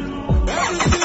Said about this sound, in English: Start the car with the jump starter.